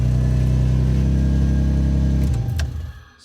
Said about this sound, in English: But if I do it again, the vehicle starts right up.